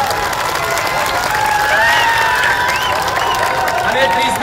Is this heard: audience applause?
yes